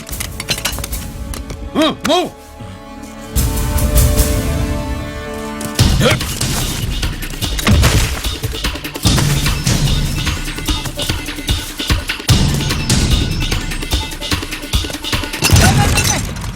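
In an action movie attack scene, a large metal bell rings out briefly before crashing down with a loud metallic clatter, followed by continuous noisy banging and rattling that stays loud throughout.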